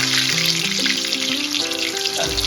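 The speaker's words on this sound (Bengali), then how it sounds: "জাস্ট লাল লাল করে এবার ভেজে নেওয়ার পালা" Potatoes frying in oil for Kolkata mutton biryani, a loud, dense, continuous sizzle with a shifting tonal hum underneath, close and steady throughout.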